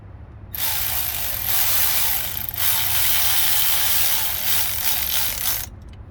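A ratchet wrench clicks steadily while turning a bolt on the rear brake of a 2016 Jeep Cherokee 4WD, a continuous close, loud ratcheting run lasting several seconds with no talk.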